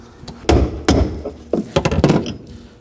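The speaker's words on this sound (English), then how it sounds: "Using a brass punch, really important also, we want to go ahead and spin this ring, hitting it with a hammer." A hammer strikes a brass punch to spin the fuel pump retaining ring on a 2011-2016 Kia Optima: a series of sharp metallic blows, close and loud, irregularly spaced, with quicker light taps near the end.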